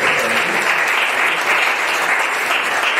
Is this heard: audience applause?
yes